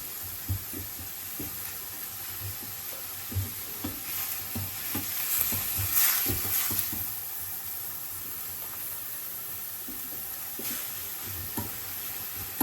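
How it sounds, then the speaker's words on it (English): Minced meat for spaghetti bolognese sizzles and fries steadily in a pan, with repeated stirring scrapes and a brief louder hiss of steam partway through, close and continuous with no talking. "The meat is being cooked and the spaghetti is also being cooked here."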